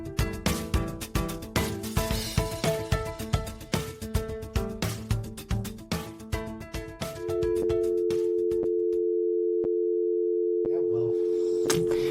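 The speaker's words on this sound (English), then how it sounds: "In the beginning, there was a dial tone." A steady telephone dial tone holds alone for several seconds after a stretch of busy, rhythmic music with repeated notes.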